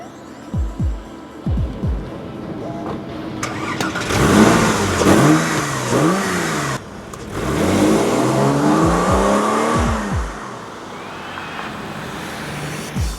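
A Porsche 911 engine on the move revs hard through rising and falling sweeps, loud and close. Brief throttle blips and gear changes break up longer pulls, and quieter passages come between the bursts.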